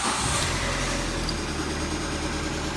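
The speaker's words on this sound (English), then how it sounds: "That's just regular dumpy car noises." A worn, beat-up car nicknamed The Goober runs steadily the morning after starting, a continuous low engine rumble with a rough mid-range drone and no voices, close and fairly loud throughout.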